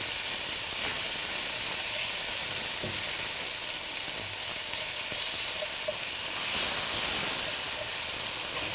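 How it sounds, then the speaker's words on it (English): Onions frying on medium heat in a pan, giving a steady close sizzle and hiss throughout with faint scattered pops and light stirring, no talking. "So you can see the edges of the onion are starting to shrivel up a little."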